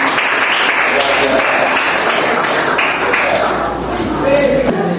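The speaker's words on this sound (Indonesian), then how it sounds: "give big applause for that" Classroom audience applauding for several seconds, a dense steady wash of clapping with murmured voices mixed in, at a school lesson.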